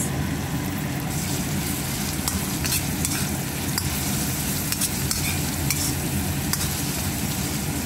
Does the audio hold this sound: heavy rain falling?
no